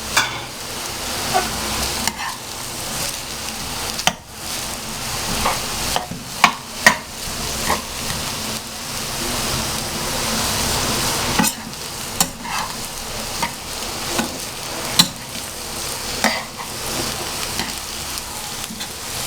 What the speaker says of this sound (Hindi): थोड़ी सी हम इसमें फ्राई करेंगे शिमले की मिर्च, चॉप की हुई है अच्छी सी, ये डाल देंगे